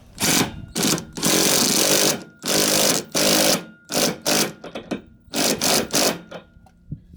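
Socket wrench ratcheting a new rear shock nut snug on a 2007 Mercury Mariner, Mazda Tribute or Ford Escape, heard as loud bursts of rapid clicking repeated several times, with no talking.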